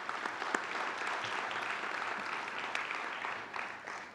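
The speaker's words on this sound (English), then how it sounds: "If everybody just give him a round of applause." A round of applause fills a sports hall of fame induction ceremony, the clapping moderately distant and even, with a few sharper claps standing out before it thins near the end.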